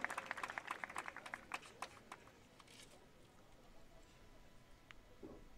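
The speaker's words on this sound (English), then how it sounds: "and we will accept the applause together" Audience applause at a middle school grade promotion ceremony, a faint, distant patter of clapping that fades out after a few seconds into quiet room noise.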